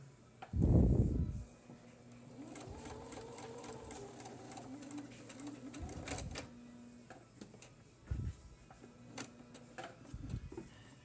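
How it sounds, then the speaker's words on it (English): A sewing machine stitches a church prayer quilt, running in a steady rapid whir with a couple of short pauses, punctuated by a few louder thumps and clicks, fairly quiet and close. "And then you finish sewing on out."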